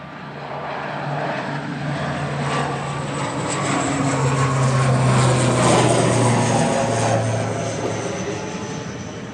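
An ATR 72 turboprop bound for Belfast rolls for takeoff at Manchester Airport, its propeller engines building to a loud, sustained roar with a droning hum that swells and then begins to ease off, heard from a distance outdoors.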